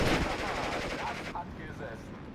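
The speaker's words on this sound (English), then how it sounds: "That is a very long range artillery, I think." Long-range artillery fire from a Sexton self-propelled gun in Steel Division: Normandy 44, a loud rumbling barrage at the start that thins out, leaving distant battlefield noise and a few faint calls.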